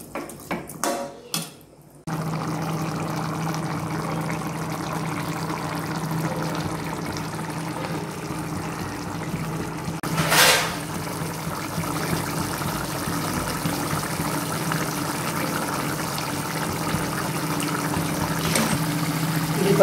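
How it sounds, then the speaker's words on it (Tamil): Pea kurma, a green pea curry cooked with masala and water, boils in a pot with a steady low bubbling hiss. A few clinks of utensils come at the start and another sharp clatter comes midway, with no talking. "இதை நல்லா ஒரு கொதி கொதிக்கட்டும்."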